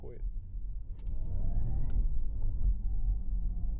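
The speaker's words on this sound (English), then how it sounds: "Right now we're just driving in normal mode, not Sport Plus." A Porsche Taycan Turbo cruising in normal drive mode gives a steady, low electric-car rumble from inside the cabin, with road noise throughout and voices underneath.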